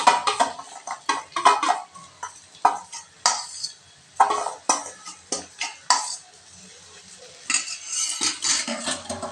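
A spoon scrapes and clinks against a pan as soaked oats are stirred into cooked vegetables for masala oats, in a run of short, close, irregular strokes, with brief pauses between bursts.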